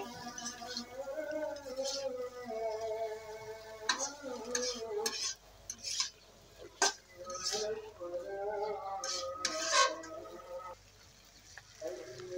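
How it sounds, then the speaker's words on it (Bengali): Flat beans and new potatoes stirred into frying masala, soft scraping and clinking of a spoon against the pan, with gentle sizzling under a quiet voice speaking. "এবার মশলার ভিতরে আমি সিম, নতুন আলু দিয়ে দিচ্ছি"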